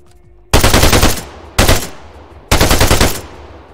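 Automatic rifle fire with heavy recoil in the Arma 3 military video game: three loud, rapid bursts of gunfire, each ringing and decaying before the next, close and without speech.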